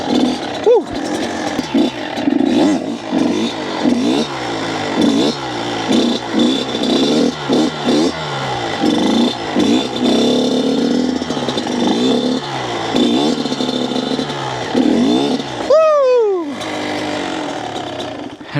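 Kawasaki KX85 dirt bike engine revving hard during a circle wheelie, close and loud with rapid throttle blips rising and falling in a continuous buzzing rhythm, then a sharp high rev near the end.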